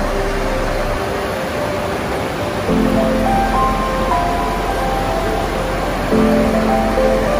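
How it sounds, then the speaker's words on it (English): A waterfall in Banff National Park in the Canadian Rockies, the second tallest in Canada, gives a constant, loud roar of rushing water with faint tonal hums drifting through it. "it's the second tallest waterfalls in Canada"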